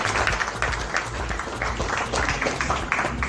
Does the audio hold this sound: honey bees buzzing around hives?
no